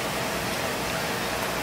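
Steady rain in Caracas, Venezuela, a soft, even hiss of falling water that stays quiet and unbroken throughout the short stretch, with no voices over it.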